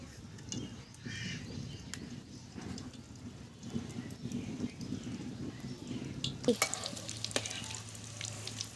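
Breaded egg cutlets shallow-frying in oil over a low flame, a soft steady sizzle with occasional light clicks and clatter of turning, one brief louder clatter late on, no speech.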